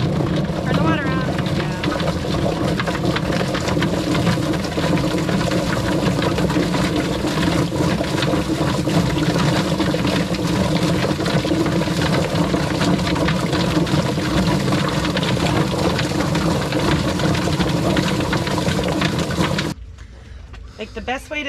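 Running water rushes steadily and loudly for about twenty seconds on a homestead where chickens are being scalded and butchered, then cuts off abruptly near the end, with people talking under the noise.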